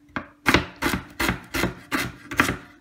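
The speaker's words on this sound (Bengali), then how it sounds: "এখন ভালো করে ধুয়ে ছোট ছোট টুকরা করে কেটে নেব" Radish chopped into small pieces on a board, seven crisp knife chops in a steady rhythm, close and clear, with no voices.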